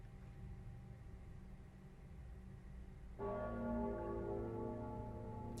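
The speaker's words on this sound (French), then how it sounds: "Ah, les cloches sonnent." Church bells ring inside the Dark Souls 3 video game, entering suddenly partway through as sustained, resonant tolling over a steady low ambient drone.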